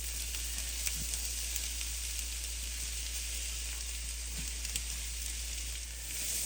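Onions for pierogi garnish fry in a pan, giving an even, continuous sizzle that stays close and fairly quiet throughout, with no voices.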